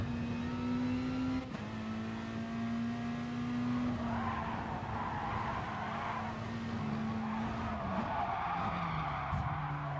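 A touring race car in Gran Turismo slides sideways at Brands Hatch with a long, steady tire squeal over a droning engine. The squeal shifts in pitch as the car scrubs along, loud and continuous, with no talk.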